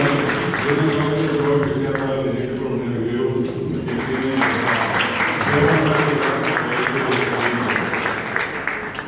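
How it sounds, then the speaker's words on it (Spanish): An audience applauds members of a military orchestra at a Defense Ministry musical performance in a hall, with steady clapping throughout, muddied by room echo and background sound. "para quienes les pedimos un fuerte aplauso"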